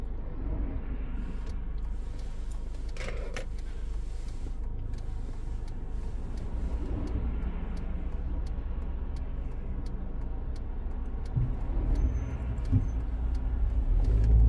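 A car pulls away on a driving test in Pinner, its engine holding a low, steady hum that swells slightly toward the end, with faint ticks and clicks from inside the cabin and no talking.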